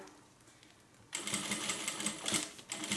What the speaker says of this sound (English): Just stitching one after the other.